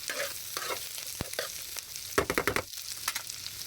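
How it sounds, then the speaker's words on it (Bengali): A pan of carrots, egg and meat sizzles up close while a utensil stirs it, with a quick run of rhythmic scrapes and clatters in the middle and sizzling throughout. "এটা একটু ভেজে নেবো, হালকা ভাজা দিয়ে দেবো"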